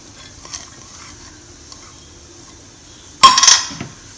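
Banana flower vada batter with onion, coriander and salt being mixed in a bowl, a quiet stretch followed by a loud burst of clattering utensil scrapes and clinks against the dish.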